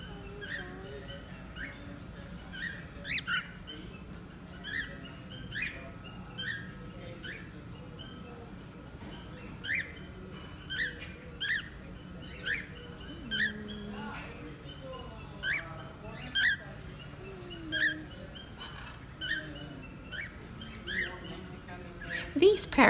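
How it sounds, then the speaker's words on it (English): Parrots at a Riviera Maya resort give short, repeated chirping calls at a moderate distance, scattered through the clip over a steady background hum, growing slightly louder near the end. "These parrots are the long-term inhabitants of the property."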